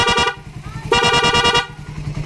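Fullwave dual loud horn on a Raider 150 motorcycle blares close and loud in two long honks separated by a brief gap, with no one talking.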